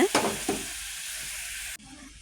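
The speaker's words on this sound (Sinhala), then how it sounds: "ඊට පස්සේ හොඳින් කලවම් කරන්න මේක ඉක්මනට උතුරනවා." A spoon stirs a boiling, spiced murukku mixture of water, chili powder, salt and turmeric in a pot, giving a couple of scraping strokes over a steady bubbling hiss that cuts off abruptly near the end.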